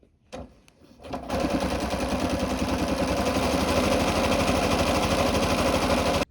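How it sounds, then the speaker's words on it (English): A sewing machine stitches shirring with elastic thread, two short bursts followed by a loud, continuous rapid mechanical whirr with a fast regular stitch rhythm, close up and without talk. "just basically start sewing"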